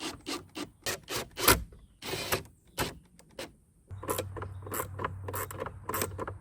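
Screws are driven back into a mirror cap on a 2024 Ford F150, heard as a series of short, close buzzing bursts from a power driver with pauses between them, then a longer steady run near the end.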